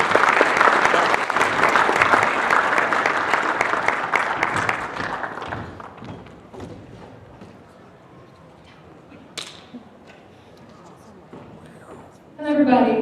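Audience applause for students at a youth pitch competition, loud and dense at first, then thinning out and fading to scattered claps before a speaking voice comes in at the end.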